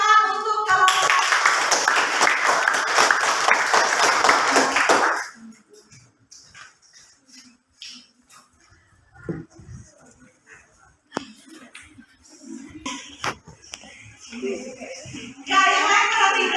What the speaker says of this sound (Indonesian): Kalau tidak ada, berarti kita kasih tepuk tangan untuk kelompok 1.